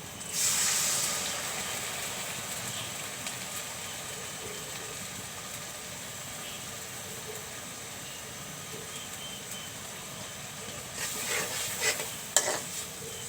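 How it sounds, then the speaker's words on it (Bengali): Spices frying and being stirred in a pan while cooking beef with potatoes: a steady close sizzle with scraping stir strokes throughout, louder bursts of stirring near the start and end, no talk. "মশলাগুলো একটু কষিয়ে নেব।"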